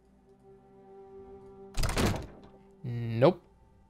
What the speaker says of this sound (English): Did that open the door now?